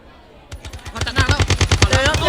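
Rapid automatic gunfire from a shooting video game, starting with a few spaced shots and building into a fast, loud, steady burst of repeated reports.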